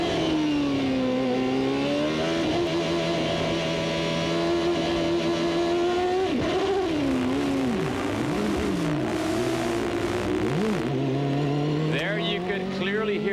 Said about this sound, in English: Let's just listen to Adrian's engine here.